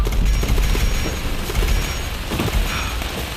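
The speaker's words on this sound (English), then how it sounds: "2 contestants must fight to the death while being targeted by automated turrets" Automated turrets fire during a brutal fight-to-the-death match, a dense, loud barrage of rapid gunshots and booms running continuously throughout.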